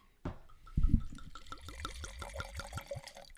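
Wine glugs into a glass in a quick run of bubbling, gurgling pulses, close and moderately loud, with a brief knock at the start as the pour begins.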